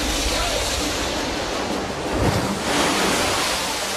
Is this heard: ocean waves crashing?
yes